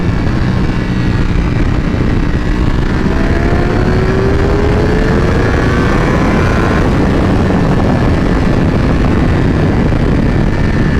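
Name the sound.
motorcycle accelerating at full throttle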